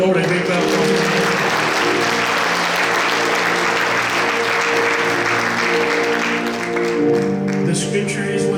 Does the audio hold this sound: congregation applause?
yes